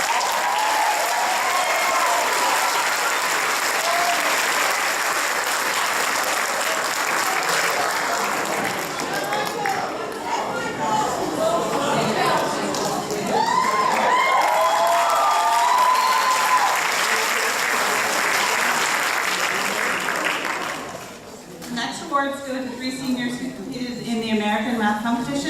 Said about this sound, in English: Please give a round of applause for Michael Evans.